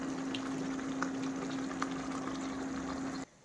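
Spiced pork chops with potatoes simmering in their own released juices in a pan, a steady close bubbling hiss with small pops and a constant hum, cutting off abruptly near the end.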